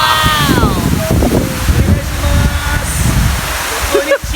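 Tumalog Falls, a curtain-like waterfall, pours with a constant loud rush of water while several people talk and exclaim close by.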